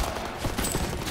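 Rapid sustained gunfire in a Call of Duty WW2 battle, a dense continuous fusillade of overlapping shots at close range with no voices.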